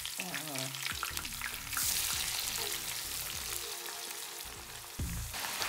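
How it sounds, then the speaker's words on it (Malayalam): Sliced onions frying in oil over a low flame for a vegetarian Thalassery dum biryani, giving a steady sizzling crackle with occasional stirring scrapes and metallic clinks, close and fairly loud. "പക്ഷെ ഇത്തവണ നമ്മൾ കറക്റ്റായിട്ട് ഉള്ളി വറുത്തെടുക്കും കേട്ടോ"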